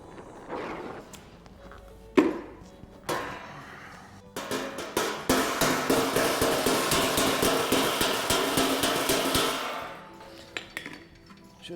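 An 8 lb sledgehammer pounds heated metal on a Ford XC Falcon body, a few separate heavy clanks at first and then a long, steady run of loud, ringing metallic blows in quick rhythm before the hammering stops.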